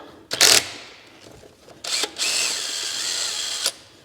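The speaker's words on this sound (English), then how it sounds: "And I'll take off each lug nut." A DeWalt impact wrench with a 21 mm socket runs in reverse to remove a Tesla lug nut. It sounds as a sharp short burst, then a whirring spin-up and a longer buzzing run that stops abruptly, loud and close with no talking.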